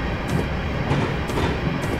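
A train in Train Simulator 2018 on a London Midland line in the Trent Valley runs steadily while picking up speed, giving a loud, continuous rumble with a rhythmic clickety-clack of wheels over rail joints and no talk.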